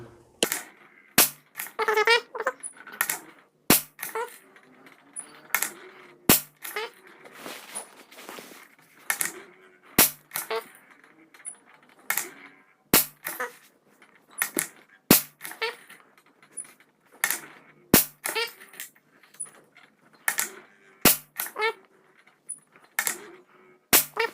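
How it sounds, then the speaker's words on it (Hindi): Artemis P18 PCP airgun firing Pro Magnum pellets: a long series of sharp, loud snapping shots spaced a second or two apart, each followed by a brief metallic clatter, with someone talking quietly between shots. "नौ सौ 29 प्रो मैग्नम के साथ पहली शॉट मिली हमें।"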